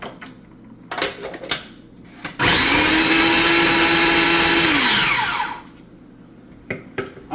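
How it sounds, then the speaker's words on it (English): A food processor chops onion in one loud, steady whir lasting about three seconds, the motor pitch holding level and then dropping as it spins down, with light clatter just before and after. "I'm going to put some onion in the food processor"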